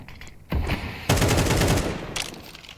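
Rapid automatic gunfire in Counter-Strike 2 during a competitive esports match, dense loud bursts of shots arriving in two waves over a few seconds, with fainter clatter after.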